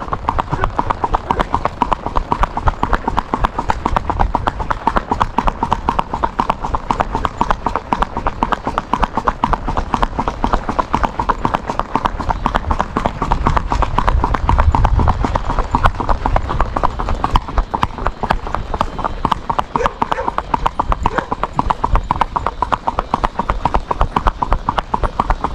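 Andalusian chestnut horse being ridden, hooves clip-clopping in a quick, steady rhythm throughout, close and prominent, with music and voices underneath.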